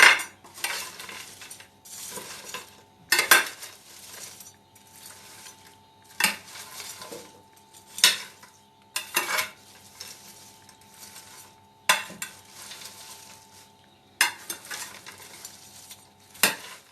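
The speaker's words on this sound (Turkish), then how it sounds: "Şimdi bunu karıştıracağım." Spiced Albanian-style liver seasoned with chili flakes, black pepper and cumin is stirred in a pan, with a utensil clattering and scraping against the metal in uneven bursts over a faint sizzle.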